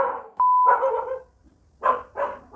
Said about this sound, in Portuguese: Eu nunca consigo gravar um vídeo sem latidos